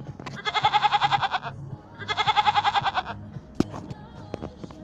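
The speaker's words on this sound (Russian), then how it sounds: "Великолепно. Коза." Two long, wavering goat bleats, close and loud, one after another, followed by a few scattered knocks and clicks.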